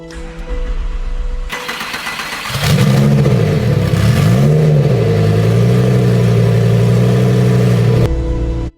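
A rebuilt, previously crashed Lamborghini Gallardo engine starts and revs loudly up close, rising and falling through several swells before settling into a steady drone as the car pulls away, then cutting off abruptly.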